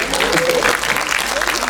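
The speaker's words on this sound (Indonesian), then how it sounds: "Tepuk tangan buat kita semua." Applause at the opening ceremony of an international film festival, a dense burst of clapping that fills the whole moment, with a voice speaking over it.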